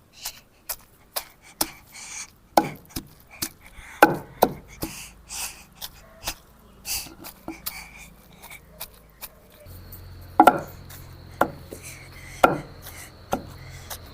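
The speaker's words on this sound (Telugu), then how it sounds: "ఇప్పుడు గోంగూర వేసుకున్నాం కాబట్టి తొక్కున్నాం." Gongura (sorrel) leaves pounded by hand in a stone mortar for a village-style chutney, heard as repeated dull thuds and crushing knocks at an uneven rhythm, fairly close and clear, with no talking.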